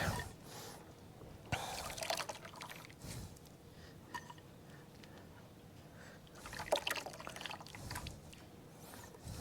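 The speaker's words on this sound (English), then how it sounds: "Then you're trying to get as much of the milk out of the coconut." Washed grated coconut is squeezed by hand to press out its milk, giving faint wet trickles and drips in a few soft bursts against a quiet background with no speech.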